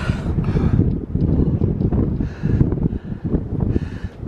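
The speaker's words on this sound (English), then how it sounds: "And it is windy" Strong wind on a mountaintop on the Appalachian Trail buffets and roars against the microphone in uneven gusts, loud and close, with no talking.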